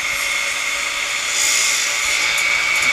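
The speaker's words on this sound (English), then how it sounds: "We start by cutting the handle off, being very careful not to cut the bottom of the handle." A power saw whines steadily and loudly while cutting the handle off a wooden outrigger canoe paddle, a continuous high-pitched drone with no pauses over three seconds.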